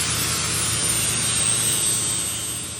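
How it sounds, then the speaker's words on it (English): Workers sawing during repair work, a steady broadband rasp with constant hiss that runs continuously throughout and fades slightly at the end, fairly close and without speech. "We walk past some workers sawing and working on various repairs."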